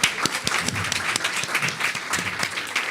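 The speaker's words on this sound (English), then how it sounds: "Bigger round of applause," An audience at a talk on restaurants, farms and the climate crisis applauds in a dense, continuous round of clapping that holds steady throughout, with no speech over it.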